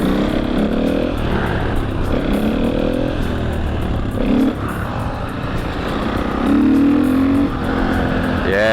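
A 250cc supermoto motorcycle being ridden, its engine droning loud and close throughout, rising and falling with throttle changes and a sharper rev near the end.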